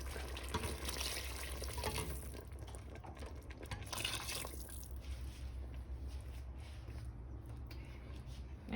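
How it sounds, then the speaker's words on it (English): Roughly two cups of water poured into a cooking pot on a stove: a steady, fairly quiet splashing pour for about five seconds that thins to a faint trickle and then near-silence. "we're going to add some more water. It's about 2 cups."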